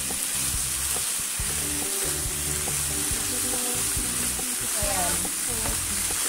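Chicken breast fillet and kangkong stir-fry in a pan with a loud, constant sizzle and a rapid run of scraping and clinking, and a voice speaks briefly.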